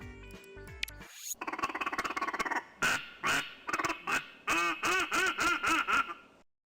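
A cartoonish duck quacks repeatedly in the video game Ultimate Duck Hunting, a rapid string of nasal quacks followed by several louder, separate quacks, bright and close, after a short electronic intro.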